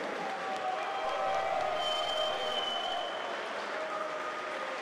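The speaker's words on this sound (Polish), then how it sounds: "Wielkie brawa dla niej. Zróbcie hałas" A crowd at a kickboxing fight event applauds, a moderate wash of clapping and crowd noise heard from some distance, steady throughout with no clear voices on top.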